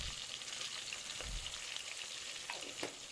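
Drumstick pieces frying in a pan, a steady close sizzle with a few soft scrapes from stirring, no voices.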